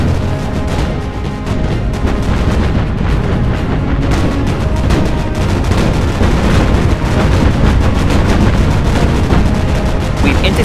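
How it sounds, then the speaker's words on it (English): Airstrike explosions in the naval combat game Battlestations: Pacific during the Battle of Cape Engano, with dive bombers and torpedo bombers attacking: continuous heavy booms and blasts rumble loudly, overlapping with rapid gunfire throughout. "Airstrike incoming, sir. Dive bomber and torpedo bomber squadrons."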